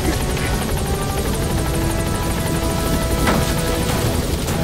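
A military helicopter in the Metal Gear Solid V video game hovers at a landing zone, its steady, loud rotor drone and buzzing turbine whine filling the whole stretch without a break.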